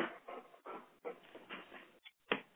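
A dog whines and whimpers in a string of nasal, pleading cries, close and fairly quiet, with brief pauses between them.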